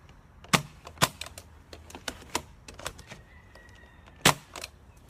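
Nerf Blitzfire blasters on a modified bladed shield fire in sharp snapping pops, staggered shots and paired bursts, loud and close with small mechanical clicks between.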